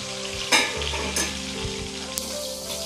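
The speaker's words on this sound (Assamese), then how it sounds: "আৰু 2-3 মিনিট সময়লৈকে ভাজিম" Fish sizzles and crackles in hot oil in a frying pan while cooking an Assamese tangy fish curry, with steady frying hiss broken by a few sharp scraping stirs, no voices.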